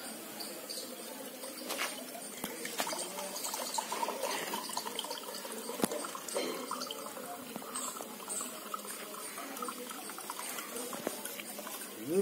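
Water pours out of a small tender coconut, a quiet, steady trickle and splash lasting several seconds at close range.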